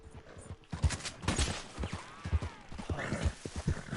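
Horse hooves clip-clop in a steady walking rhythm in the video game Red Dead Online, fairly close and moderately loud over game ambience.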